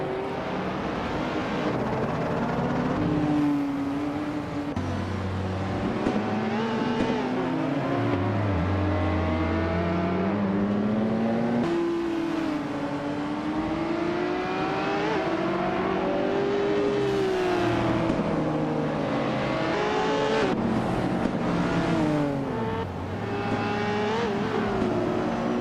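AI-driven race cars in a racing video game roar continuously for nearly half a minute, engines revving up and down through gear changes with pitch sweeps as cars pass, loud and steady with no talk.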